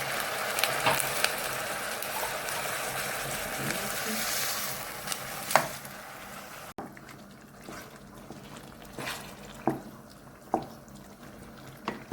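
Sheep tail fat melts in a pot with a little water, giving a soft, bubbling sizzle with gentle crackles and occasional stirring clinks, up close and steady.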